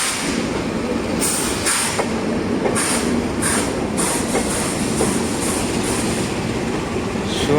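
A train moves from a loop line onto the main line with a steady, loud rumble and repeated sharp clicks and clacks from the wheels crossing rail joints and points, heard from on board.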